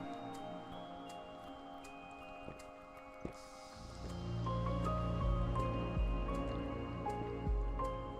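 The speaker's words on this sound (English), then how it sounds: "I'll drink some water." Someone drinks water close to the microphone: quiet, soft liquid sips and wet squishy swallowing sounds over a faint background hum, with no talking.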